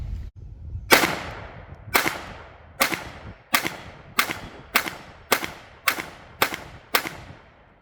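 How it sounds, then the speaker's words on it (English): A Ruger LCP II .22LR pistol fires Federal 38 grain hollow points: ten sharp, loud shots at a steady pace about two thirds of a second apart, each with a short ringing decay, and no talking. "So the next rounds we're going to be firing are the Federal 38 grain hollow points."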